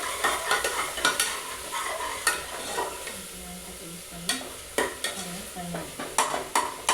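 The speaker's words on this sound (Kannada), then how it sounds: "ನಾವು ಹಾಕಿರೋಂಥ ಮಸಾಲ ಆಯಿಲಲ್ಲಿ ಚೆನ್ನಾಗಿ ಫ್ರೈ ಆಗಬೇಕು" Masala paste for mutton curry sizzles in hot oil while a spatula stirs and scrapes the pan in a steady rhythm of close, sharp strokes, with no one speaking.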